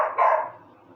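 A single dog barks once, sharply and close, then the sound quickly fades into quiet.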